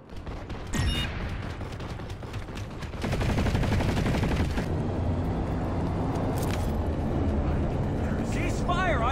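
Rapid automatic gunfire and scattered shots from the online shooter Planetside 2 rattle in dense bursts, with a voice shouting over the battle.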